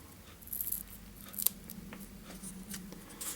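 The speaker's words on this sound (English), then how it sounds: "Just going to take my scissors and trim that off straight at the front." Long scissors make a few soft, close snips while trimming deer hair material on a fly being tied, with quiet handling noise between cuts.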